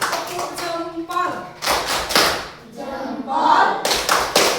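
A classroom of pupils clapping hands in a patterned cheer, bursts of claps and taps alternating with a teacher's and children's voices in a lively rhythmic exchange.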